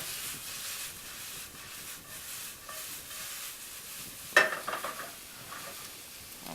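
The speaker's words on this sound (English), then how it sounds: "Now you want to try to cook these onions on a medium-high, little medium heat if you're worried." Onions caramelizing in a pan over medium-high heat give a steady, close sizzle and hiss, broken once by a brief clatter of a utensil against the pan, with no voices.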